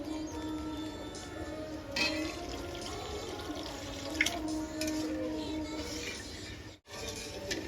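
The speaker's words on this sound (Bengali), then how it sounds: "এবার আমি জল দিয়ে দেবো এইটা সেই মশলা ধোয়ার জল" Spice-washing water poured into a cooking pot of frying spices for chhana biryani, a soft trickling splash with faint drips and sizzle, quiet and close, briefly interrupted near the end.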